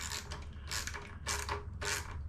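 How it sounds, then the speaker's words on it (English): A 10mm socket on a ratchet tightens a bolt on a full-suspension ebike, giving three or four bursts of rapid clicking ratchet strokes at close range with no talk. "I've got a little socket here with a 10mm ratchet, 10mm socket with a ratchet"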